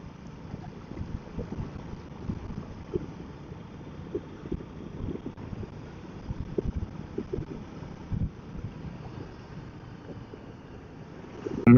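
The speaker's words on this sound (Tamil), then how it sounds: "காற்று வேற ஓவர் அடிக்குது. உங்களுக்கு எவ்வளோ கேட்கும்னு எனக்கு தெரியல." Strong wind buffets the microphone during a ride on a Duke 250 motorcycle on a hill road at Kolli Hills, a steady low rumble with irregular gusty thumps throughout.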